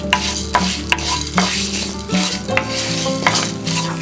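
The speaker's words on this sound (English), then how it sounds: "Once our oil is hot, we'll add our cumin seeds, some coriander seeds, fenugreek seeds," Cumin, coriander and fenugreek seeds sizzle in hot sesame oil, a steady frying hiss broken by several sharp clinks and stirs of a utensil against the pan, close and fairly loud, with no voices.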